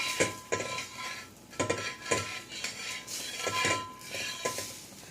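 A chickpea dosa being turned on a pan: repeated metallic scrapes and clinks of a spatula against the pan in a loose rhythm, close-up over a steady faint sizzle.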